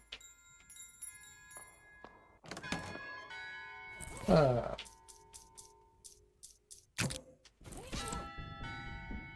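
Metallic bell tones ring out in scattered strikes in the video game Shadows over Loathing, alongside thuds and clunks, with a voice speaking briefly in the middle.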